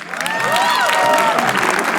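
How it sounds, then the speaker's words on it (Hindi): A roast-show audience applauds and cheers, with a bright whistle or whoop rising and falling over steady clapping in a short, even burst. "अजीम बनात वाले के लिए तालियां प्लीज।"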